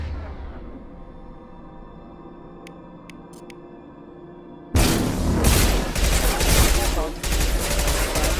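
Gunfire in Mass Effect 2: after a quiet stretch of low ambient hum and a few faint beeps, sustained loud automatic fire with heavy booming impacts erupts and keeps going.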